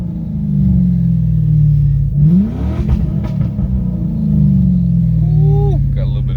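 A 1998 Lincoln Mark VIII V8 engine idling loudly, then revving up and settling back with some crackle and pop. A voice is heard briefly near the end.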